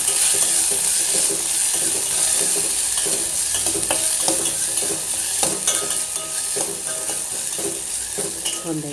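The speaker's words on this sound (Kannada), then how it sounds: "ಆಮೇಲೆ ಹಾಲು ಹಾಕಬೇಕು." Milk being stirred into a pan of spicy sabudana (tapioca pearl) soup, a steady sizzle and bubbling with repeated spoon scrapes and clinks against the pan, close and fairly loud throughout with no talking.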